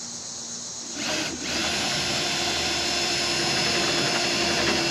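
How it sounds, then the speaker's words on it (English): A power drill boring into the wooden transom of a small jon boat, a loud steady whine running close and unbroken after a brief start-up surge. "Then I'm gonna try to drill this one."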